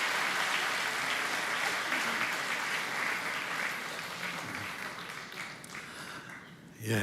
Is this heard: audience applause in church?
yes